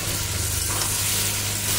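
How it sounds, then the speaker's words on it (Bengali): Potato and eggplant hitting hot oil, a brief dense close sizzle with a low steady hum beneath. "আর এবার আলু বেগুনটা দিয়ে দেবো"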